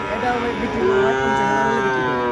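A cow lets out a long, loud, sustained moo close by at a cattle market, with other cattle and market noise in the background.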